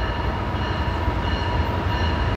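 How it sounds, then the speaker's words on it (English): Steady, continuous rumble of a train running at constant speed as an animation sound effect, loud and even throughout with no talking. "Consider this train traveling from point A to point B at a constant speed."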